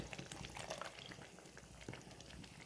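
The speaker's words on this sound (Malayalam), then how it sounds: "ഇതിലേക്ക് നമ്മൾ തക്കാളി വേവിച്ച വെള്ളം, കുക്കറിലുണ്ടായിരുന്ന വെള്ളം ഇതിലേക്ക് ഒഴിക്കുകയാണ്." Water from cooking tomatoes in a pressure cooker pouring into a hot pan for a tomato curd curry, a dense bubbling, gurgling liquid rush that continues briefly and closely.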